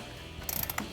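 A ratchet wrench with a 10 mm socket clicks in a quick run of sharp pawl ticks, loosening an upper control arm bracket bolt on a Toyota 4Runner during a leveling kit install, close and clear with no talk.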